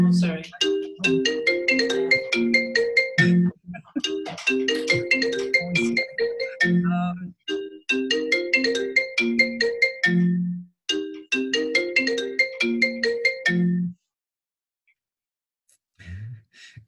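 A phone ringtone plays loudly during an acupuncture conference call, a repeating melodic phrase cycling about four times for roughly fourteen seconds before cutting off, with a faint voice afterward.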